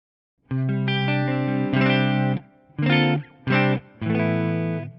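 Clean electric guitar tone routed dry through loop five of a newly built pedal board, a few sustained chords and short stabs ringing out alone with clear harmonics and brief gaps between them.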